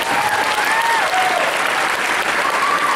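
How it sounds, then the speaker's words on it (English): Steady, loud applause fills a convention panel room, many hands clapping continuously with a few faint voices underneath. "She deserves a round of applause for pulling all this."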